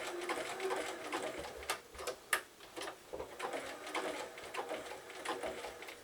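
Sewing machine stitching zig-zag applique on a tight inner curve of birthday bunting, a quiet rapid mechanical whir in short bursts, stopping and restarting every few stitches with small clicks, and no talking.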